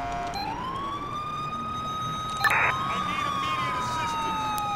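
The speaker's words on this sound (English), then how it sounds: "Dual sirens." Two police car sirens wail together from a Liberty City police cruiser in GTA IV during a high-speed pursuit. The sweeping tone runs loud and steady throughout, with a brief burst of engine or crash noise near the middle.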